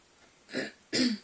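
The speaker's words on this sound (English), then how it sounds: "me clearing my throat and coughing, and here I am again" Two short, close throat-clearing coughs a moment apart, the second harsher and louder, in an otherwise quiet room.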